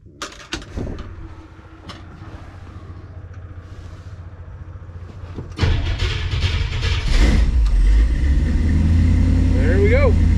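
A 1957 car's engine runs at a steady idle after being fired up, a low continuous rumble that grows louder partway through, with people talking over it.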